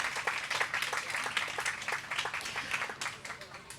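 An audience at a community fundraiser applauds a speaker after her testimonial, a moderate, uneven patter of clapping hands with talk mixed in throughout.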